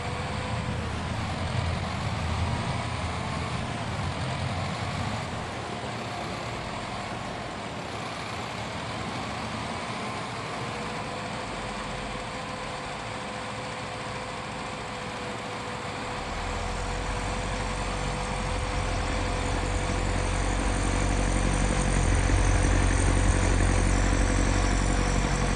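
A tractor engine in Farming Simulator 22 drones steadily with a low rumble, swelling louder over the last several seconds. No one speaks.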